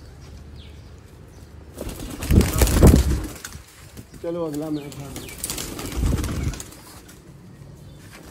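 Pigeons take off with bursts of flapping wings, sounding close, while someone speaks briefly between the flutters.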